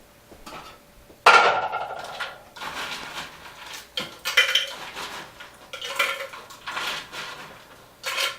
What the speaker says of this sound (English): What I'm going to do is fill my cup up about halfway with ice.